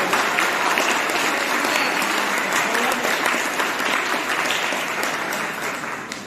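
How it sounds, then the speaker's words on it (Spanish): A church congregation gives sustained, dense applause that stays loud and even throughout, easing only slightly at the very end. "yo quiero dar un gran aplauso por tu convicción"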